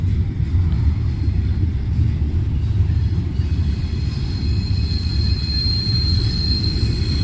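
A freight train rolls past on railroad tracks, a steady heavy low rumble with clattering wheels and a thin high squeal creeping in, loud and close throughout.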